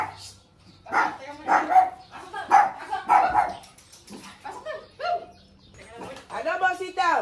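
Several dogs bark and yip in bursts, fairly close, with voices talking over and between the barks.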